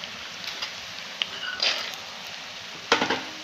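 Peanuts fry in a pan with onion and potato pushed to the side, a faint, soft sizzle with a few quiet stirring scrapes and clinks, close and without talk.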